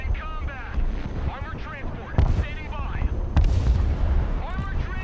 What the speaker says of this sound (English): I wonder if that artillery going to that hill right there is...